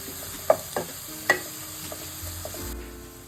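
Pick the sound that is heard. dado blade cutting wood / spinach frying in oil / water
spinach frying in oil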